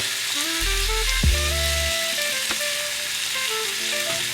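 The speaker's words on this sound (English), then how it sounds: "can you hear that sizzling?" Food spread with a garlic pesto marinade sizzles on a salt block, a steady close frying hiss that runs throughout, with faint tonal background music over it.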